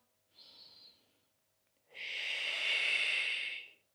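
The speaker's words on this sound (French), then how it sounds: "Et j'expire, dernière fois." Exhaling during a Pilates breathing exercise, a short soft breath followed by a longer, louder, airy exhale, both close and with no talk.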